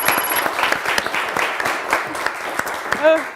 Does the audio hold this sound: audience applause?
yes